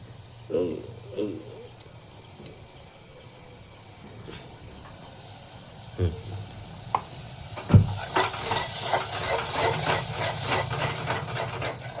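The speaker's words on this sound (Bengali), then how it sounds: "এবার দিয়ে আমি হালকা নাড়তে থাকবো" Coriander leaf powder is stirred into a spiced pickle in a pan, giving scraping spoon strokes and a soft sizzle that grows louder and busier toward the end, with a few knocks against the pan and speech between strokes.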